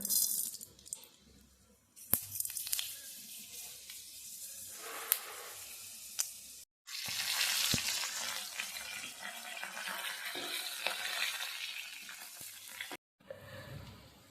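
Fenugreek seeds frying in hot oil in a pan for rasam hiss and crackle steadily at close range, with clattering handling noises and brief silent breaks partway through.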